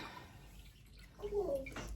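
Cold coffee is poured into a cup: a short, close, quiet trickle of liquid whose pitch rises as the cup fills, over a low room background.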